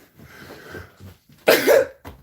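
A close, forceful sneeze erupts midway, preceded by quieter breathy huffs and followed by a short exhale.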